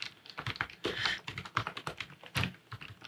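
Fast, close typing on a modded Razer Huntsman V2 TKL keyboard with OEM-profile keycaps, a dense run of clacky keystrokes with no talk.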